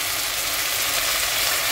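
Vegetables with soy sauce fry for pancit bihon in a hot pan, giving a loud, steady hissing sizzle that runs without a break and with no voices.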